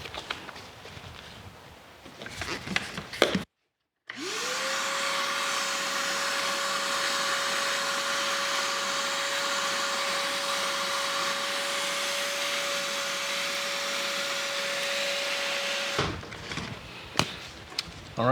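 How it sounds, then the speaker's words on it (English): A vacuum cleaner roars steadily for about twelve seconds while sucking up shards of broken glass inside a window frame, a constant whine over broad hiss, with clattering handling noises before it starts and after it shuts off. "vacuum up all these shards of glass down here inside the window"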